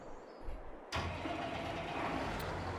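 A tractor engine in Farming Simulator 22 starts up after a brief quiet moment, then settles into a steady, close, mid-pitched rumble that runs on evenly without speech.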